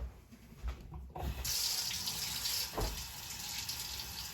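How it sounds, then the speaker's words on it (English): Cold tap water runs steadily into a kitchen sink while vegetables for tortilla soup are washed, a continuous broadband splashing hiss that starts after a brief pause and stays close and even. "Always start off with washing your vegetables"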